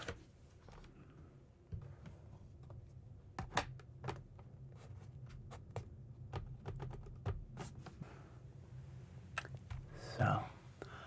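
Soft, scattered keystroke clicks on a USB computer keyboard tapping away at an irregular typing pace, close and quiet, with a low murmur underneath and a brief louder rustle near the end.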